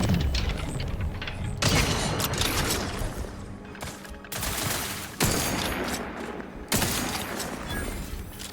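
Heavy gunfire echoes through a valley in the sci-fi shooter Outer Worlds 2, with dense overlapping rifle and automatic bursts rolling on continuously and sharp louder volleys breaking in about every one and a half seconds.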